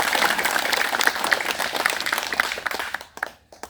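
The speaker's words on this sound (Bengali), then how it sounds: "জোরে হাততালি।" A crowd at a temple gathering in Idilpur breaks into loud, dense applause, with many hands clapping together close by. The clapping fades out and stops just before the end.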